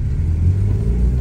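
A Toyota Celica with a 2ZZ-GE engine and an exhaust leak idles up close, giving a loud, steady, low rumble with a rough, uneven texture and no voices.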